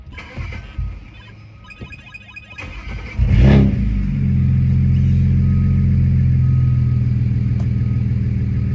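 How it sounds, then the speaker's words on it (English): A 500 hp BMW 335i built from eBay parts cranks and fires up with a loud burst, then settles into a steady, rumbling idle with a raised revving tone that holds close and constant. "We're gonna prime the fuel pump quick and hopefully it starts with no issues"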